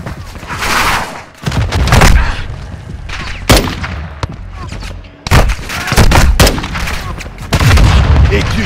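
Battle gunfire in Call of Duty Modern Warfare 2: loud, sustained bursts of rifle and machine-gun fire with heavy booms and thuds, broken by brief pauses, under occasional shouted voices.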